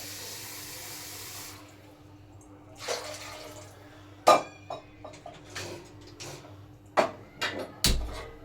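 Water poured over cut cauliflower florets for gobi pakodi, splashing in a few short bursts with quiet gaps between them, close by and with no talking.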